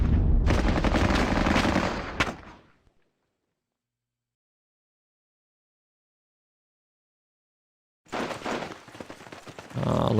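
Loud, dense bursts of machine-gun fire from a war video game fill the first two seconds, then cut to total silence before another heavy volley starts near the end.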